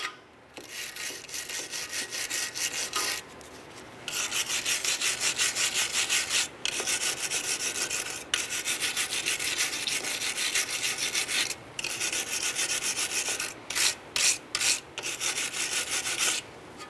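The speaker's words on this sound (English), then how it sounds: "Next what we want to do is clean these slide brackets right here. Use a wire brush." A wire brush scrubs rust and debris off the rear brake slide brackets of a 2003-2007 Jeep Liberty. The harsh, close scraping comes in long back-and-forth bursts with brief pauses between strokes, and no one talks.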